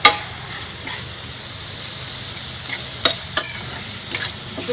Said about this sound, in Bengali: চাইনিজ সবজি করছি, সয়া সস সব দিয়ে একটু নাড়া করতেছি।